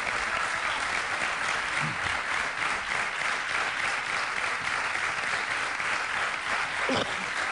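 Sustained applause from a studio audience on a Spanish television talk show, steady and dense throughout, with a few brief louder claps near the end and no talk over it.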